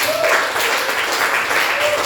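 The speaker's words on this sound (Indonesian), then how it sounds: "Tepuk tangan dulu dong semua." Students in a classroom applaud together in a steady, dense burst of clapping that fills the whole moment at an even loudness.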